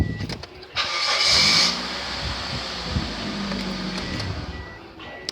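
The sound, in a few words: car engine starting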